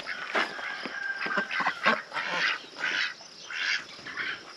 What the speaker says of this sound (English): So the ducks, again, are in the chicken run because they don't like the pond.